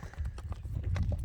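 A horse for sale is led on foot, hooves clip-clopping in a quick uneven rhythm close by, with low background murmur underneath.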